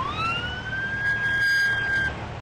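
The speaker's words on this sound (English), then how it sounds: "Flashing sirens and patrol cars in a miles-long procession" Police sirens wail from a funeral procession of patrol cars through San Diego streets for a fallen officer, with a rising then steady tone that is loud and continuous over traffic rumble.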